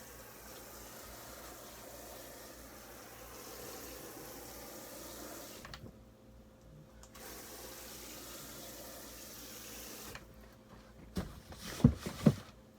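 Freshly planted microgreens in soil get a heavy watering: a quiet, steady trickle and splash of water for several seconds, with brief pauses and then some louder clunks and rattles near the end.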